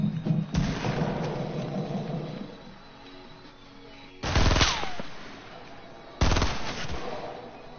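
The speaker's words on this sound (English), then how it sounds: "Oh, I'm getting shot at from elsewhere." Assault rifle fire in the video game Fortnite, three loud bursts of rapid shots: a long one at the start, then two shorter bursts later, with a quieter game background between them.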